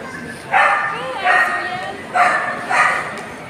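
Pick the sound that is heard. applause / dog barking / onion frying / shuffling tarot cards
dog barking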